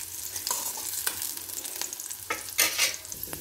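Chopped ginger and green chilli fry in a pan for chutney, a close, crackling sizzle with intermittent stirring scrapes and a brief louder burst near the end.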